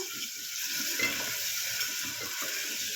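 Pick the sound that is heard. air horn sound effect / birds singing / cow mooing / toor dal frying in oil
toor dal frying in oil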